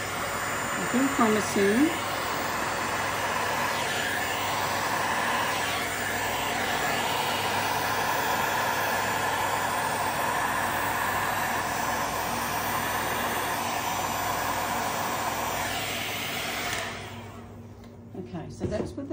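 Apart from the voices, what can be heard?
heat gun blowing on resin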